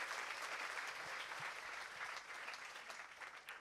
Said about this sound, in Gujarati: એમને જોરદાર તાળીઓથી વધાવો એકવાર